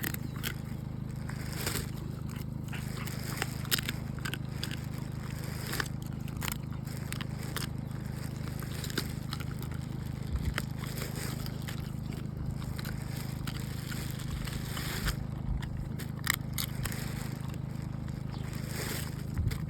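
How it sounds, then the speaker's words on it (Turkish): An animal crunches dry food close by, with rapid irregular crisp bites over a low steady hum, continuing throughout. "Kıtır kıtır ne kadar tatlı yiyor."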